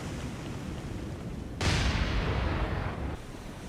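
A torpedo strikes and explodes against the cruiser Atlanta in the War on the Sea naval game, set in the Guadalcanal campaign: a sudden heavy boom bursts over a steady rumble and roars for about a second and a half before fading.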